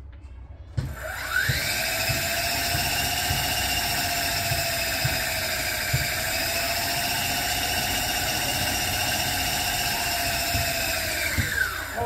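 Electric bike hub motor, newly upgraded from lead-acid to a lithium battery, spinning the rear tire up to a steady high-pitched whine that holds for about ten seconds before winding down, with light mechanical ticking underneath.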